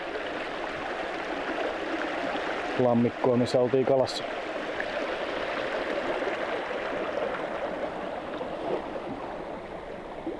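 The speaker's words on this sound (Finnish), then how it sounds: "Täältä ylemmältä läntekööltä virtaa tämmönen kiva pikku puro." A small wilderness brook flows below an upper pond, its steady, close water rush running throughout while someone speaks briefly over it.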